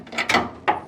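A torque wrench tightening coilover bolts on a 1966 Ford Mustang: three quick, close ratcheting clicks and rubs in short bursts, with no voices.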